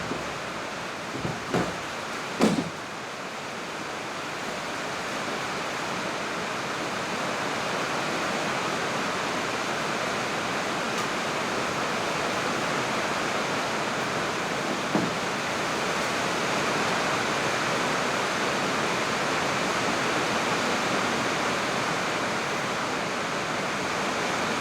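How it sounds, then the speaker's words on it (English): Heavy rain pouring outside, a steady dense hiss that fills the background continuously, with a few faint knocks near the start and no talk over it. "It's raining. You can probably hear it in the background."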